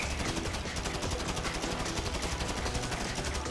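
Rapid bursts of automatic gunfire in Grand Theft Auto V rattle almost nonstop, dense and loud, with no voices.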